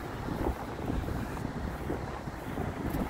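Steady wind roars and buffets across a beach, a dense, unbroken rush close to the microphone with no voices over it.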